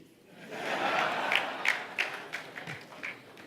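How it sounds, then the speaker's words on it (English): A person claps at a Rotary International Assembly address, with sharp separate claps standing out over a swelling crowd murmur for a few seconds. "That was my wife clapping."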